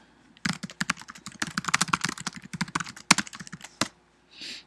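Rapid, uneven keystrokes on a computer keyboard while typing Python code, close and fairly loud, coming in bursts with brief pauses and a softer hiss at the end.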